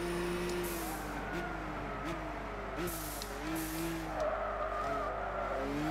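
A race car in the Gran Turismo 6 video game drives with a steady engine drone while its tyres squeal and skid repeatedly, loud and close.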